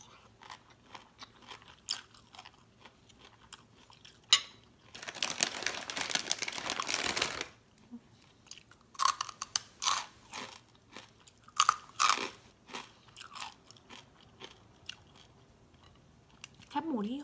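Close-up crunching and chewing of crispy pork rinds wrapped with vegetables at a papaya-salad lunch, with sharp bites, a long crinkling stretch and scattered crunches, and brief talk near the end.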